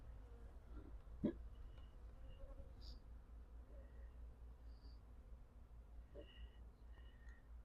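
Honey bees from the season's first swarm, being retrieved by a beekeeper, hum in a steady low buzz throughout, with a few brief knocks and faint higher tones scattered over it and no talk.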